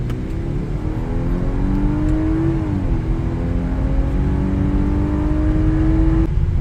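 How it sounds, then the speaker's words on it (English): Audi A5 with a 2.0-litre four-cylinder engine, heard from the cabin while driving: a steady, moderately loud engine drone that rises in pitch as it revs up, dips briefly, then holds a constant tone over road rumble. "You definitely hear that it's a 4-cylinder."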